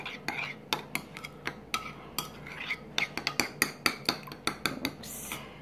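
A utensil scrapes and clinks against a bowl as meatloaf mixture with garlic, onion and pepper is stirred together, a quick irregular series of close taps and scrapes with no talking.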